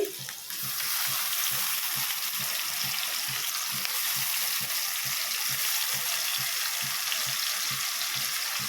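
Ginger garlic paste fries in a pan for tomato rasam with a steady, loud, close sizzle, broken by rhythmic low thumps throughout, and no voices.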